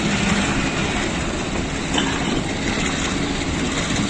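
A Rawalpindi passenger train of Pakistan Railways running on its rails, giving a steady loud rumble and rattling clatter of the carriages from inside, continuous and without voices.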